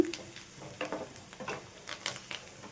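Masala with coriander powder fries in a pan for a black-eyed pea gravy curry, giving a quiet sizzle with soft scraping stirs every half second or so, close and low, with no voices.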